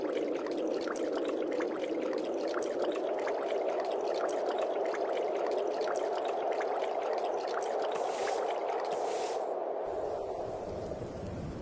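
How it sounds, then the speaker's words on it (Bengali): A cartoon sound effect of rain starting over a river gives a continuous, even rushing hiss with fine pattering, loud and unbroken, easing slightly at the very end. "এই রে, বলতে না বলতে দেখছি বৃষ্টি চলে এসেছে।"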